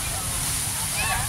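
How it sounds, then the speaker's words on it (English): Continuous splashing of water from a fountain near a harbor where fishing boats park, a steady mid-level wash with a brief whistle-like sound near the end. "Got a nice fountain."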